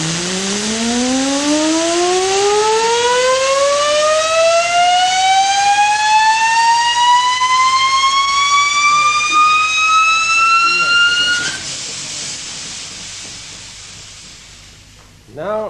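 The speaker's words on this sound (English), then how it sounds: "Now, we'll spin this up, and then I'll take the weight off and ask Mr. Coates to catch the gyro" A gyroscope with an offset mass spins up, giving a steady rising whine that climbs in pitch for about eleven seconds before cutting off, then quiet follows. The sound is loud and close.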